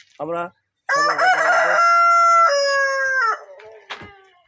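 An adult Brahma rooster crows loudly and close by: a short opening note, then a long drawn-out call that holds and drops in pitch before trailing off.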